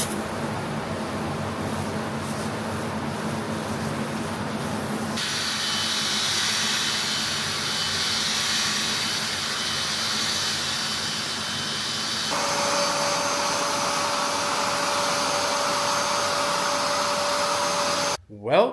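A professional detailer's steam cleaner hisses over the engine bay of a turbocharged Mazda Miata under restoration, a loud continuous jet-like rush that shifts pitch and intensity in stages, ending with a short thump.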